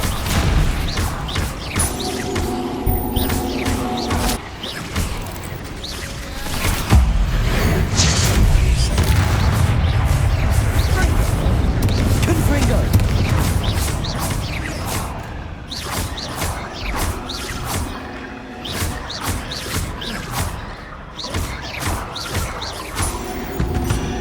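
Confringo blasting spell explosions in Hogwarts Legacy: a dense, continuous stretch of crashing booms, thuds and whooshes with rapid impacts throughout, loud and close, with no words spoken.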